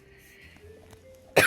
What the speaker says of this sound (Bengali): কাশি আসে।